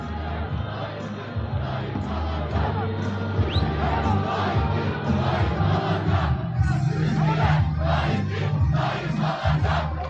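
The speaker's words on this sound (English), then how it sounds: "That was a pretty big crowd." A big crowd chants and roars at a Turkish election rally, a dense, continuous mass of voices with rhythmic shouted surges heard from a distance at steady loudness.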